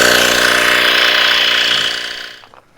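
A LASFIT portable air compressor runs while inflating a tire, giving a loud, close, rattling mechanical buzz that holds steady for about two seconds and then winds down and stops.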